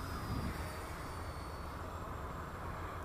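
An FMS SuperEZ RC airplane flies a low pass at full throttle, its electric motor giving a steady, continuous whine over outdoor wind rumble. No one speaks.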